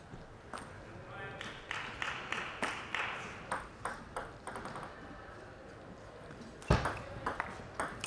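Table tennis ball struck repeatedly in a women's singles semi-final rally at a national championships, a string of sharp close pings at a steady rhythm, with crowd murmur and commentary running underneath.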